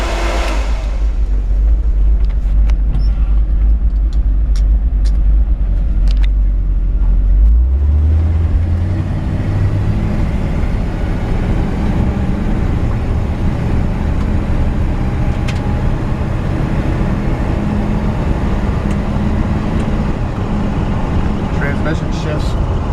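A 1954 Ford F100 pickup truck drives with a steady low engine drone from inside the cab, pitch climbing through an early gear change and then holding a smooth cruising hum with road noise, under someone talking.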